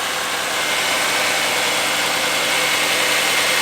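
A Mercedes E55 AMG wagon engine idles smoothly after a water pump replacement, a steady, even mechanical hum with a low rumble, heard close and alone throughout.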